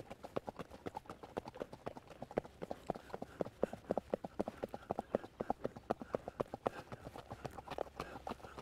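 Steady rhythmic hoofbeats of a horse trotting, crisp clip-clop strikes repeating evenly throughout, moderately close with no voices.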